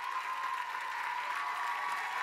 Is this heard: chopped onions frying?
no